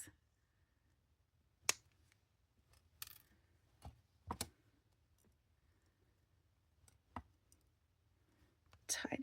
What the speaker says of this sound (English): once I've got a nice little wrap done, I can snip off my excess.